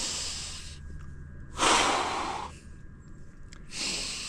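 Breathing in through the nose in icy weather, a loud, close nasal inhale lasting about a second between softer airy breaths, with no talking.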